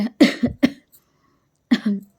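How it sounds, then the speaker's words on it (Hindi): A man coughs in the middle of a spoken talk: a quick cluster of three or four harsh, close coughs, a short silence, then one more cough. "खांसी आ जाती है बोलते बोलते।"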